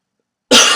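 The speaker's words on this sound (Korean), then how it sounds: "이게 다 기침하는 게" A single sharp, loud cough bursts out after half a second of silence, close and alone.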